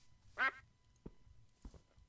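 Duck quacks in Minecraft: one loud, nasal quack near the start, then two short, softer blips later over a low game-ambience hum.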